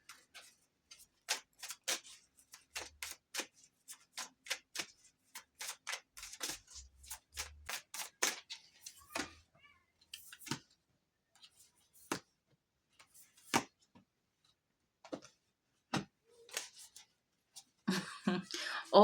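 Tarot cards are pulled and shuffled, producing a quiet, irregular series of sharp flicks and snaps close by, with a denser riffle of shuffling at the end.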